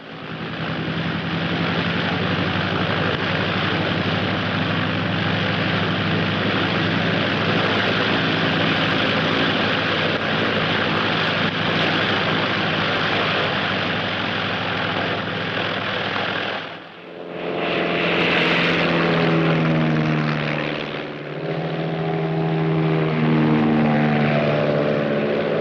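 Propeller-driven search planes fly overhead on a Civil Air Patrol search-and-rescue mission, a steady loud droning engine hum that briefly dips and swells as an aircraft passes close.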